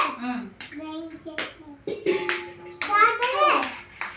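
Young children clap their hands while reciting aloud together, with short scattered claps mixed in among their chanting voices.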